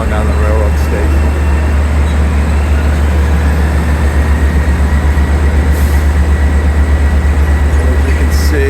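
Rail noise at a Long Island Rail Road station near the AirTrain link fills the scene with a loud, steady rumble and rhythmic wheel clatter, while someone talks over it.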